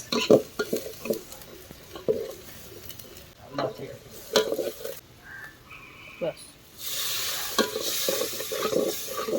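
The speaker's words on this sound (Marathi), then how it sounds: "परतून घेतलेले आपण पूर्ण मसाले टाकले त्याच्यात" Whole spices and ground coriander and turmeric being stirred and sautéed in a pan for a crab curry, with steady scraping strokes and a soft continuous sizzle, while a voice speaks intermittently.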